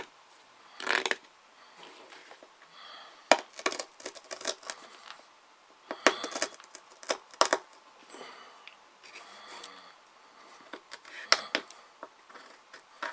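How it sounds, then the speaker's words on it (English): A CRKT Pilar folding knife carves notches into seasoned pine wood, giving scattered bursts of dry scraping and crisp cuts, some brief and sharp, with quiet gaps between the strokes, close and alone. "Try to cut some notches like I would"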